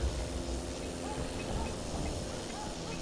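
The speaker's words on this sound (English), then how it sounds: "I hear a Fokker, and I believe I do hear an aviatic engine." WWI Fokker aircraft engines in the Wings Over Flanders flight game, a faint steady low drone with distant engine tones, continuous and fairly quiet throughout.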